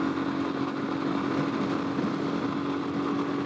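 A Royal Enfield Himalayan with a 16-tooth sprocket and a Tec camshaft climbing uphill, its engine droning steadily and loudly from close by, with no clear break in the even roar.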